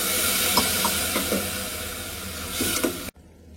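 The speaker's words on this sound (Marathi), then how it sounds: "1 ग्लास ऑलरेडी टाकून ठेवतो पाणी." Water from a glass poured into a pot of soaked basmati rice for prawn biryani, a steady close splashing trickle lasting about three seconds before cutting off abruptly.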